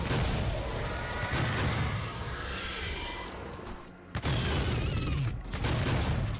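Rapid video-game gunfire in a skeet-shooting sequence crackles in dense bursts, with a brief gap near the middle before the volley resumes.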